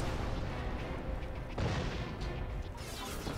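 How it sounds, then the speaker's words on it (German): Dense, continuous explosions and heavy weapon blasts from the shooter video game Crysis 2, loud and close with no pause, one stronger boom near the middle and no talking over it. "Explosions."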